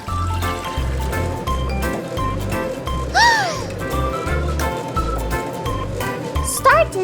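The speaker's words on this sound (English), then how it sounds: "Water appears." Water trickles and splashes into a toy washing machine during pretend play, a steady filling sound under bright electronic toy chimes and a voice talking.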